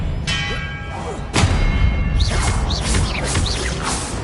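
Spell effects from the Hogwarts Legacy video game: a sharp magical burst and heavy thud, then a string of whooshing, swirling magical sweeps and impacts, loud and close with no voices.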